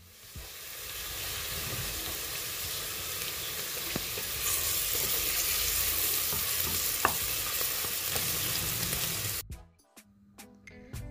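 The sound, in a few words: onion paste and chopped onion frying in oil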